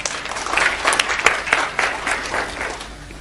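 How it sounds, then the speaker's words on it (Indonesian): A crowd bursts into loud applause, a short spell of brisk clapping that fades after a few seconds. "Tepuk tangan untuk kebenaran ini."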